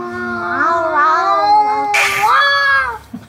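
A person imitates a cat with drawn-out, wavering meows close to the listener, broken midway by a brief noisy burst before the meowing resumes.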